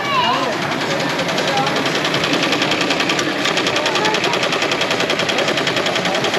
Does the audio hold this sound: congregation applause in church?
no